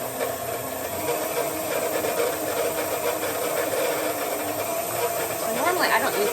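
A KitchenAid stand mixer whirs steadily while mixing sourdough chocolate chip cookie dough, a fairly quiet motor hum with a hissy edge. A voice is briefly heard near the end.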